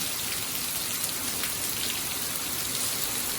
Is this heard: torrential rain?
yes